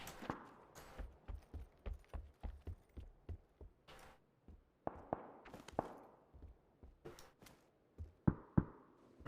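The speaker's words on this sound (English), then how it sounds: "I heard a footstep." Footsteps in a first-person shooter game sound as a string of sharp, close taps and knocks in an uneven rhythm. Some heavier thuds are mixed in, and no one speaks over them.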